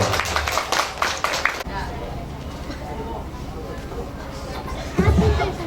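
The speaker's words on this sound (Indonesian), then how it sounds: "Cukup tepuk tangan untuk Ananda Mufro" Applause for a child at a Quran school (TPQ) event: dense crowd clapping fills the opening second and a half, then fades into a murmur of voices and chatter, with a short burst of louder sound near the end.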